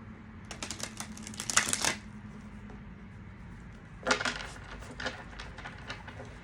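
Two bursts of tarot card shuffling, a riffle near the start and another midway, with quieter crisp rustles trailing after over a low steady hum.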